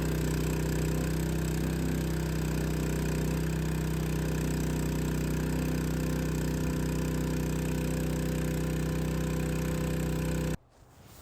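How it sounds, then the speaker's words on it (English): A small firefighting water pump engine runs at full throttle with a loud, steady drone close by for about ten seconds, then cuts off abruptly into quiet. "pulling the cord until the pump starts"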